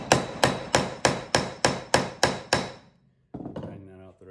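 The flat of a hammer strikes a rivet set into a leather handle eight times in a steady, evenly spaced series of sharp close metallic blows, then a brief pause and a few lighter knocks.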